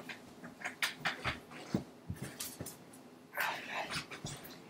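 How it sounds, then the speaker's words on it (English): A dog panting close by in a quiet room, rapid irregular breathy puffs and snuffles in quick bursts, soft and unaccompanied by talk. "I want you guys to meet my dog, just because she's right there."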